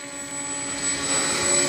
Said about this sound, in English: And this is a twin motor plane,